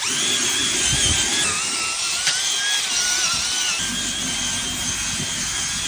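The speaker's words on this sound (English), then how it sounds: "Get our round drill brush or a ball brush and just go to town." A power drill with a round scrub brush whines continuously at high pitch, its tone wavering slightly, over a rough scrubbing rumble on car carpet, with no talking.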